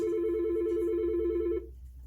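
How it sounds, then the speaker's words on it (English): A telephone rings steadily and loudly for an incoming call, one long continuous electronic ring of about a second and a half that cuts off abruptly, leaving a low hum. "We got a phone call here."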